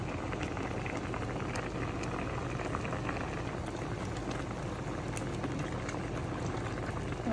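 Coconut milk stew with tilapia and pechay simmering on the stove, giving a steady, close bubbling and light sizzling hiss that runs unbroken throughout with no talking.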